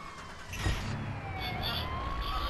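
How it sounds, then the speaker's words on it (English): A wailing ambulance siren in the open-world game Watch Dogs rises and falls over the rumble of a moving car engine, steady and fairly close throughout. "Ambulance."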